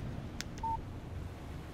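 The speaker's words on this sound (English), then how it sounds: "Text message from Barry." Phone text message alert in the video game Alan Wake: a short tonal beep of under a second, clear and moderately loud over a low background rumble, with no talking.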